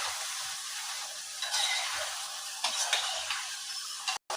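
Cooked mutton being stirred through masala in a pan, a continuous bright sizzle of frying carrying a few scraping utensil strokes, close and fairly quiet throughout, ending with a brief dropout.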